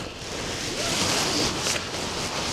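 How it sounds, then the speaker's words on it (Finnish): Heavy rain drums on the fabric of a Big Agnes Tiger Wall 2 UL tent, a dense, steady hiss that swells slightly and stays loud throughout with no voices. "hirveästi sataa vettä"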